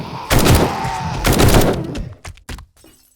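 Rapid bursts of gunfire in the survival video game 7 Days To Die, two loud sustained volleys followed by a few sharp separate shots that trail off, with no talking over them.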